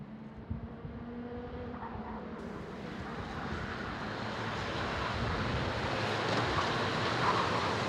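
OKJ racing karts at the WSK Champions Cup final at South Garda Karting in Lonato charge down a hill at the start, a rising mass of buzzing engines that swells steadily louder as the pack nears, with no commentary heard.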